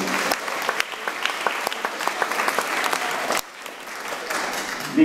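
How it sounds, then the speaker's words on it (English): An audience at a comedy joke-telling event claps warmly in continuous, crisp applause that briefly dips before swelling again, sounding close and lively. "Can you give him a round of applause?"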